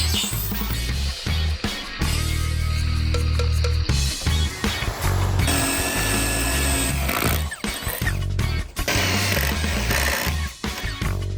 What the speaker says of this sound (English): got all our holes drilled in the board